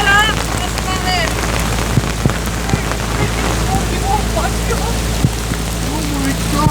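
Heavy rain pounds down on a narrowboat on a muddy canal near Glasgow, a loud dense continuous patter with gusty wind noise and occasional louder drops, while people talk faintly underneath.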